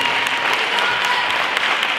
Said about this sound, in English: Give him a hand clap as he comes.